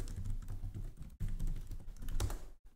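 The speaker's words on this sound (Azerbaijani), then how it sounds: "Metamask adresini yazdığınız üçün bura öz parolumu yazıram." A password for a MetaMask crypto wallet is typed on a computer keyboard, with close, quick clusters of key clicks broken by a couple of short pauses and no speech.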